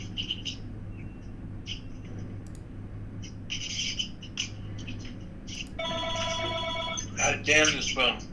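A telephone rings for a second or so, a buzzy trilling burst at moderate volume, amid ongoing talk and background hum.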